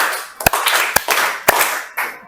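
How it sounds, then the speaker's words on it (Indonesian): Students in an art class clap a rhythmic patterned class clap on cue, sharp loud claps in a quick irregular beat with brief gaps between groups. "Oke, tepuk komposisi keseimbangan."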